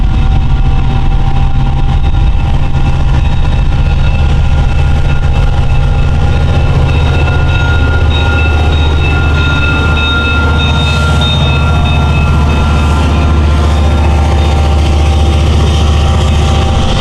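A Long Island Rail Road train pulls out and gets moving with its new electronic bell sounding, under a steady, close, heavy engine rumble that runs throughout with no talking.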